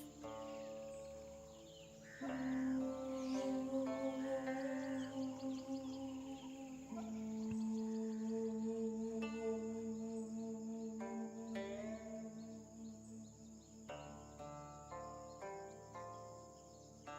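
Crickets chirping in the video game Scroll of Taiwu, soft sustained trilling tones layered with faint musical notes, quiet and continuous with no talking.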